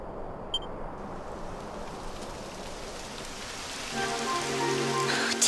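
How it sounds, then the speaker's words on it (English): Steady rain falls in a Dragon Quest XI game cutscene, a continuous hiss of drops on surfaces with a faint beep early on, and soft tonal game music rising beneath the downpour in the final seconds. "It would have to go and start raining, wouldn't it?"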